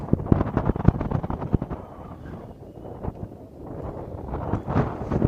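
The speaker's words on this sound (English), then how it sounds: "And a huge gust of wind right there." A huge gust of wind buffets the microphone outdoors at a high school game, with heavy, loud rumbling blasts that surge, ease off briefly, then build again.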